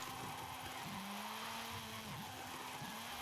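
A Mazda drifting in the video game Forza Horizon 5 with the handbrake pulled, its engine giving a steady droning whine that dips in pitch twice, set against a constant loud wash of tire and road noise.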